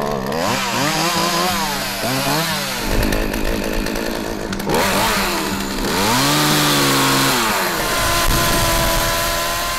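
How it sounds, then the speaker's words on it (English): A chainsaw carves a tree into a sculpture, its engine revving loud and close in repeated rising and falling surges, bogging into the wood and then screaming at high pitch. "chainsaw sculptor Chris Radus transforms trees into nature's artful"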